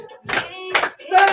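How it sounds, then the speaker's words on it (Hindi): Friends in a hostel clap their hands in three sharp, close bursts with brief pauses between, mixed with voices singing or calling out. "ताली ताली ताली चलो"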